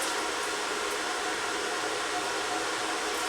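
An air-powered cutter runs off an undersized compressor, giving a steady, loud, broadband hiss and whine that holds unbroken from start to finish with no talking.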